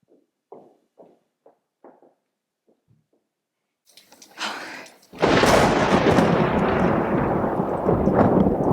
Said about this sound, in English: You're not afraid of a thunderstorm, are you?